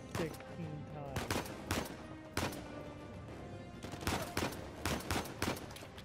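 Repeated gunfire in Uncharted 4: A Thief's End, with sharp shots landing singly and in short clustered bursts over a background of game music and combat ambience, fairly quiet overall.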